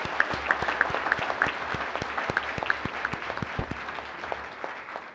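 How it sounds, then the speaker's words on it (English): Applause from a school board meeting audience, a modest group clapping in distinct, sharp individual claps that patter irregularly and slowly thin out, fairly quiet and close in a hall. "a big round of applause for all of those who contributed."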